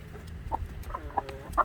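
Chickens giving a few soft, scattered clucks, faint and brief over low background rumble, with no talking.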